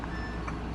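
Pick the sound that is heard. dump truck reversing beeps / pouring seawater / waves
dump truck reversing beeps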